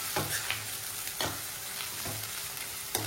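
Ginger paste frying in oil for a masala dosa filling, a steady sizzle broken by several sharp stirring scrapes of a spoon against the pan, close and with no talk.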